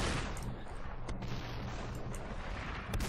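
Dense, continuous gunfire and blasts from the slow-motion shooter game SUPERHOT, a steady roar of overlapping shots with a few sharper cracks standing out near the start and end.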